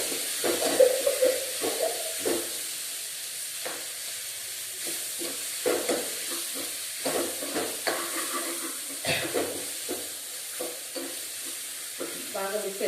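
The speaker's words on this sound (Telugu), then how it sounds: "పొటాటో కొంచెం ఫ్రై అవనిద్దాం" Boiled, mashed potato fries in a pan as a spoon stirs and scrapes it repeatedly, giving rhythmic clacks over a steady sizzle.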